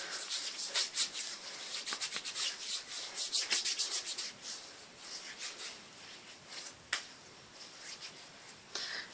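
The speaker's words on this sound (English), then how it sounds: "Let me just rub it in." Hands rub gradual tanning lotion into the skin of an arm, giving a close, soft run of rhythmic swishing strokes that come in quick bursts and then settle into sparser, slower rubs.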